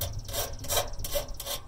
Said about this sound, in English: Now we'll just make sure we get any little burrs that we might have on this edge here